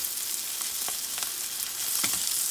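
Burger ingredients sauté in a hot pan, giving a steady, moderately faint sizzle with a few soft stirring clicks over a couple of seconds.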